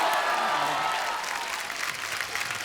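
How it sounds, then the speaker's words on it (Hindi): A studio audience applauds to welcome the cast of a Hindi film onto a talk show, a dense burst of clapping that starts loud and eases slightly toward the end, with faint voices underneath. "तो चलिए उनको बुलाते हैं जोरदार तालियों के बीच।"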